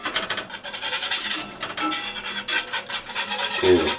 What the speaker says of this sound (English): You want to whisk the flour in so it doesn't